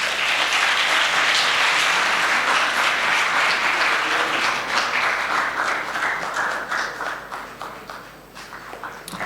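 Audience applause at a 2019 graduation ceremony, a full dense round of clapping that holds strong for several seconds and then gradually thins and fades toward the end.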